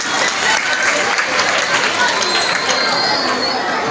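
Loud, continuous applause from a standing audience at a formal gathering in Kinshasa, a dense wash of clapping with crowd murmur and voices mixed in throughout.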